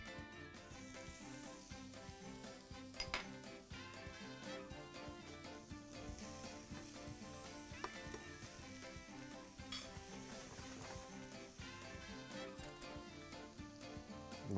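Onions sizzling in hot oil in a pan while cooking a chicken sandwich, a steady continuous frying hiss with occasional stirring clicks, close and fairly loud throughout with no talking.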